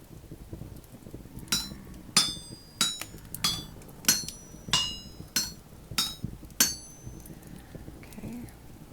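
Metal smithing in the video game Vintage Story with a copper hammer: about nine sharp, ringing strikes in an uneven rhythm, each a bright metallic clang with a short decay, over a low ambient background.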